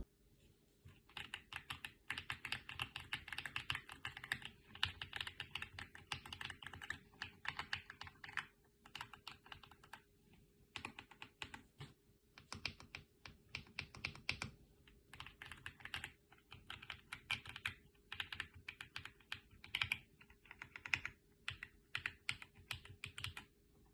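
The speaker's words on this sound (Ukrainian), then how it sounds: "Звуки клацання приємні, не дуже тихі, але й не занадто голосні." Mechanical keyboard with Box Grey V3 switches clicks in rapid, uneven bursts of typing, crisp and close, moderately loud, with short pauses between runs and no talking.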